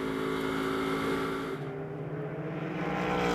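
A GT race car on the final lap at Las Vegas, recorded onboard, gives a steady, loud engine drone with layered harmonic tones that shift slightly as the revs change, with no talking.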